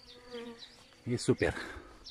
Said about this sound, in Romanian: Albinii sunt foarte cuminți